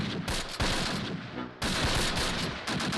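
Gunfire from the World War II strategy video game Close Combat plays as rapid overlapping bursts of rifle and machine-gun shots, loud and continuous with a short lull in the middle.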